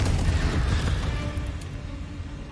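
Deep, rumbling blasts from the Bombarda and Confringo spells in the Hogwarts Legacy video game, heavy booming bursts rolling one into the next and staying loud throughout.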